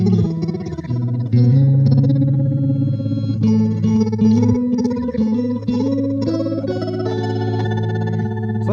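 Electric guitar played through an Empress Zoia effects pedal, sustained chords and notes thick with chorus, distortion and modulation, steady and loud with no talking.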